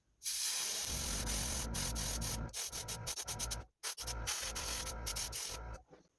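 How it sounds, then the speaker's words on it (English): Steady broadband hiss of an airbrush spraying paint on a swimbait lure, broken by short pauses and bursts as the trigger is released and pressed again, fairly close. "This is my first paint job of the year with the airbrush. It looks like it's spraying right"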